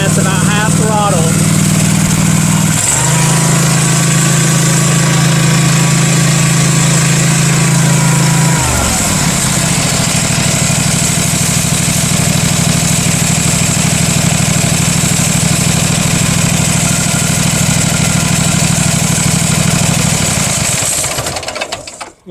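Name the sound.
Husqvarna MZ5225 mower engine running at half throttle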